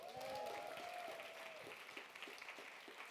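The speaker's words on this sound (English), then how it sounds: "Can I get a round of applause for that?" Audience applause at a TEDx Teesside live podcast recording, a steady wash of clapping from a crowd with a whistle rising above it at the start, continuing evenly throughout.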